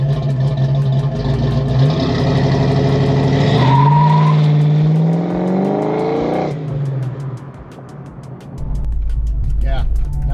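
A Fox body car with an AOD automatic and 2400 stall converter is held on the brakes and revved hard, engine note climbing and holding loud near, then dropping back to a rumbling idle, with voices talking over it.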